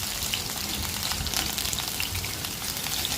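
Onions frying in hot oil in a pan, previously used for frying carp, give off a steady, dense crackling sizzle that is continuous and fairly close, with no talking.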